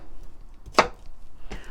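A knife cuts through zucchini on a cutting board in two crisp, close chops about three-quarters of a second apart, set against a quiet room.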